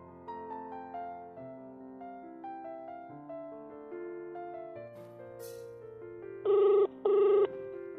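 A telephone ringing unanswered in a Tamil short film, its repeated electronic ring tones sounding alone and clearly over a soft melodic ringtone-like background, with two louder bursts toward the end.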